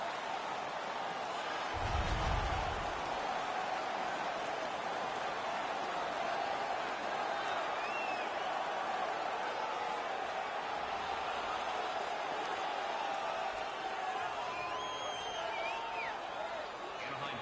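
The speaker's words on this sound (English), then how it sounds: "The crowd is now engaged again." A video-game hockey arena crowd cheers as a steady, distant roar, with a low thump early on and a commentator's voice speaking over it.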